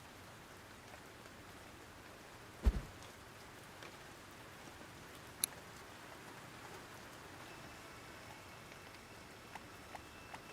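Steady rain in the video game Hanako's Flower Shop, a soft even hiss of falling drops and pattering with a few brief louder taps, continuous and fairly quiet throughout with no talking.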